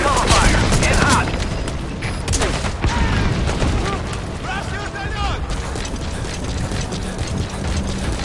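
Support helicopter cover fire rattles in Metal Gear Solid V: The Phantom Pain, dense bursts of gunfire and booming impacts with mechanical clatter, loud and continuous under occasional radio-style talk.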